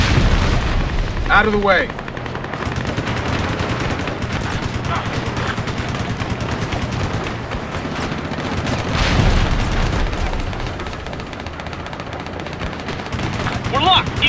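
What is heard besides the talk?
jet fighter guns firing in video game Ace Combat: Assault Horizon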